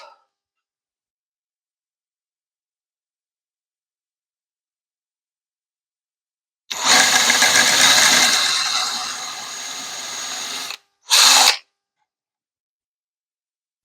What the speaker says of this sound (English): Now we're going to drill the inner piece down in so we can make sure our feet grab.